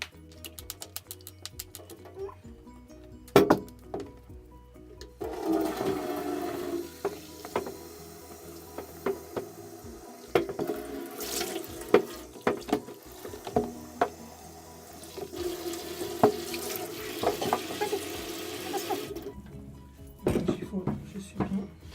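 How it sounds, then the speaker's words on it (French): Water runs and splashes into a glass terrarium bowl to loosen residue stuck to the bottom, a fluctuating close gush with clinks, starting and stopping, while a person speaks at times. "Donc l'eau, c'est juste pour enlever voilà, ce qui est resté collé au fond."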